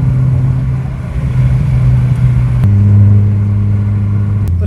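A car engine idles steadily and close by throughout, a low constant drone that shifts pitch slightly partway through, with faint clicks and no speech.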